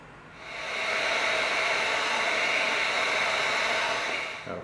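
A heat tool blows a steady, loud hiss of hot air while heat-sealing shaped EVA foam, rising quickly after a brief start and holding constant before a small dip at the end.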